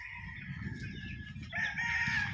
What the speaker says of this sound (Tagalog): Ayan yung mga sisiw.